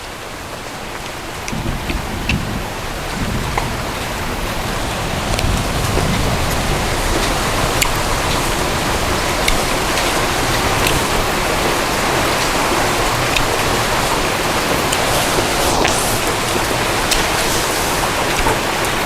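Steady rain drums on a tarp outdoors in the wet season, a dense, even hiss of drops that holds close and loud from start to finish with no voices.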